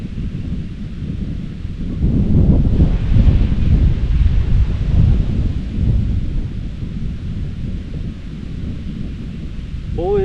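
Wind and rain of a thunderstorm sweep over a lake around a kayak, a loud steady roar with a heavier gust swelling midway and rumbling low throughout.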